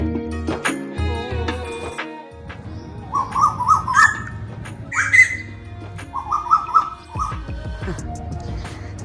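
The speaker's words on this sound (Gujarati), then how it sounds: "આજે તો મોર્નિંગમાં જેટલી મસ્ત કિલકારીઓ આપણને સાંભળવા મળે છે." Morning birds chirp in short, repeated bursts near a home on New Year's Day, with dogs barking and whimpering at intervals and other household sounds around them.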